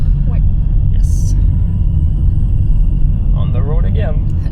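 Steady low interior rumble of a car driving on a road in Bali, constant and loud throughout, with people talking over it.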